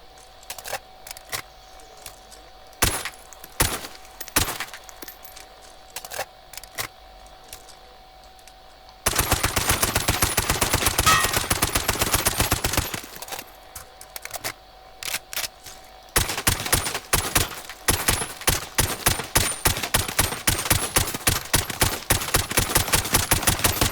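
FR 5.56 rifle fire in Call of Duty Warzone: sharp single semi-automatic shots spaced irregularly, then dense rapid bursts and long strings of close, crisp cracks that carry on steadily to the end.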